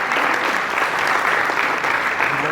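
A business event audience claps steadily for the panelists of a co-founder session, a dense, even round of applause from a full room, close and sustained from start to finish.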